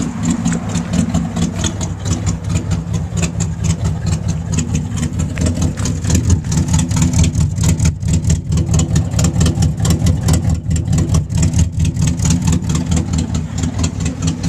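A 1962 Studebaker Hawk GT engine idles steadily at close range after a cold start, a loud, rough, low rumble from the driver's-side exhaust that holds constant without revving.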